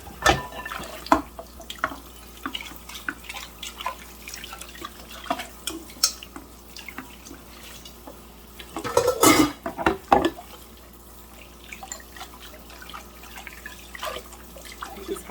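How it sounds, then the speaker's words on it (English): Dishes and pots are washed in a kitchen sink, with scattered clinks and knocks of cookware and cutlery, intermittent running water, and a louder cluster of clattering partway through, all without talk. "This is how I do my dishes."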